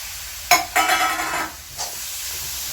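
Prawns tipped into a pan of chilli-powder gravy, giving a sudden burst of sizzling and steamy hiss, then a second longer frying swell that fades to a low simmer, close and alone.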